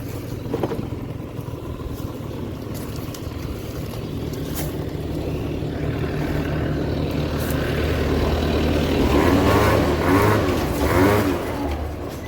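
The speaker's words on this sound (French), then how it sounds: "Bon allez, le tracteur il est passé." A tractor passes outdoors, its engine a steady low rumble that grows louder and rougher toward the end as it draws nearest, with no talking over it.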